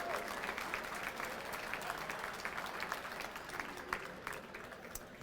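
Sustained round of applause from a large dinner audience of several hundred at a Border Patrol Foundation gala in Washington, D.C., dense steady clapping at moderate distance with a few sharper claps standing out.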